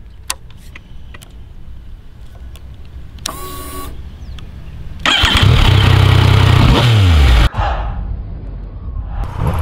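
A Yamaha MT-09 motorcycle engine cranks and starts after a few clicks, then roars loudly as it revs up with a rising pitch, cuts off sharply, and picks up again more faintly.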